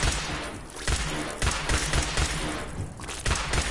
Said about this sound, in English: Let's get these in to shoot pistol